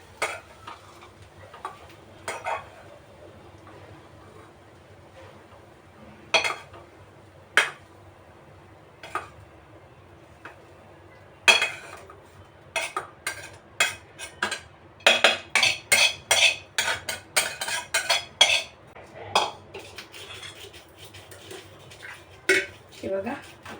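Dry peanut chutney is scraped from a kadhai into a container, with sharp metal-on-metal clinks and scrapes at first sparse, then in a quick, dense burst.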